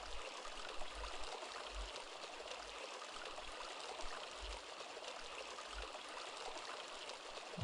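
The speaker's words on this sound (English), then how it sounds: "they must control the water flow to the fountain" In the video game Sanitarium, fountain water flows with a faint, steady trickle and soft rushing that continues without a break.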